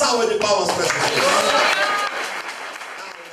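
A church gathering applauds in worship, with many hands clapping in a loud, rolling burst that gradually thins out while voices call out over it.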